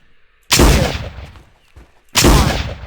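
Two loud, close gunshots from the video game Jurassic Park: Trespasser, each a sharp blast with a booming tail, separated by a quieter thud between them.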